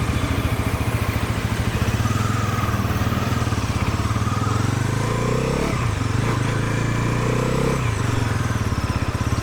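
Bajaj Pulsar NS400Z motorcycle, just back from its first service, runs close by with a steady throbbing idle that swells into a brief rev near the middle, then settles again; no talk.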